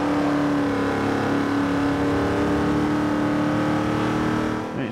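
Steady in-game engine drone of an Oldsmobile Hurst 442 muscle car in Forza Horizon 2, a constant mid-level roar with harmonic whine that holds through the clip, no talk over it.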